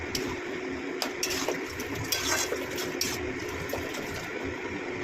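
Water is poured into a pan of simmering egg tarka, a steady rushing, gurgling splash that holds fairly even for a few seconds with small surges.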